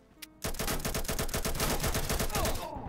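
A close, loud stream of rapid automatic gunshots erupts after a brief quiet moment and keeps firing in an even rhythm for over two seconds in a Garry's Mod MilitaryRP game.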